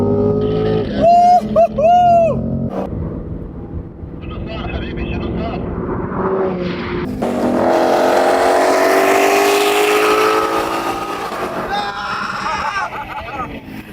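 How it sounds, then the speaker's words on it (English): A red Ferrari revs hard while driving, and its loud engine roar surges through the second half. Voices shout and scream over it early on. "my physical screams were drowned out by this car"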